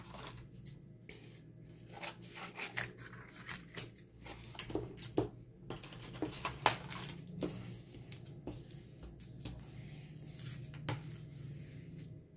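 Paper cut with scissors for an accordion envelope pocket, a quiet close series of irregular snips and crisp rustles with small taps, no voices.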